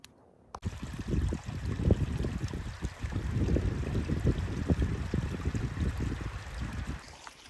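A mountain creek in the North Cascades flows steadily, a close continuous rush and gurgle of water that begins abruptly after a brief silence and runs on alone.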